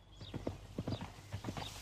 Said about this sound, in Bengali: ঘোড়ার খুর ছুটে চলেছে রাজপ্রাসাদ অভিমুখে।